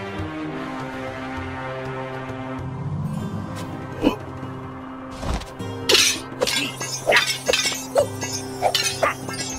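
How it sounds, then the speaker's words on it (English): Objects shattering and breaking in the Hotel Transylvania Scary Tale Adventure video game: a series of sharp glassy smashes and clinks, one sudden and then several in quick succession, over steady game music. "You really smashed those objects!"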